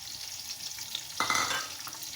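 Sliced onions hit hot oil in a pot for vegetable pulao, bursting into a sudden loud sizzle about halfway through that then settles into steady frying crackle, with no voices.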